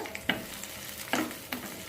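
Cumin-pepper powder tipped into cashews frying in a pan, with a soft sizzle and three scraping stir strokes spaced across the moment, no voices.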